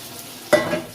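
Boiled masoor dal tipped into a hot pan, a sudden close sizzle bursting up halfway through and then fading as it is stirred.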